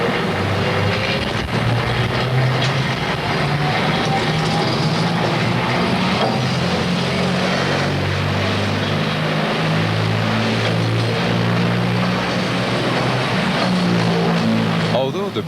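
A chairlift brake being tested in reverse at about 550 feet per minute hauls the lift to a stop, heard as a loud, steady mechanical roar and grinding rumble with shifting low tones, continuous throughout with no voices.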